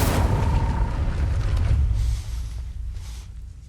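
Incendio fire spell cast in the video game Hogwarts Legacy, a loud low whooshing burst of flame that rumbles heavily at first and then slowly fades.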